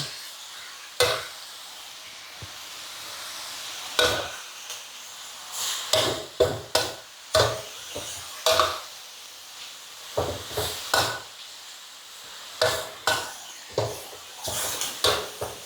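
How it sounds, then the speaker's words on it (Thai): Spring onions being stir-fried in a pan for a Thai dish with sun-dried pork, sounding as a series of sharp scraping and clanking utensil strokes in irregular bursts over a quiet, faint sizzle, close and without talk. "ผัดให้ต้นหอมสลดนิดนึงก่อนค่ะ"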